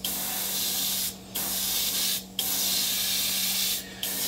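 A spray gun laying down an even wet coat of Cerakote, its hiss loud and close, running in long continuous passes broken by three brief pauses between strokes.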